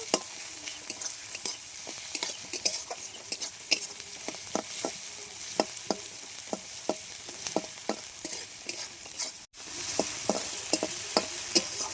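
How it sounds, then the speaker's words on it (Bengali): Ground spice paste fries and sizzles steadily in a pan for a quick chicken dish, with repeated sharp stirring scrapes of a spoon against the pan over a constant hiss and no talking. "মশলাটা আমি একটু ভেজে লাল লাল করে নেব"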